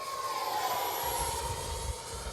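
High, steady whine of twin 50mm ducted fans on an X-Fly SU-57 model jet, a piercing tone over a rushing roar, continuous and fairly close.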